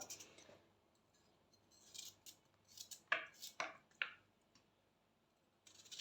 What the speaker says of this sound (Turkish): Hemen havuçlarımı da bu şekilde doğruyorum.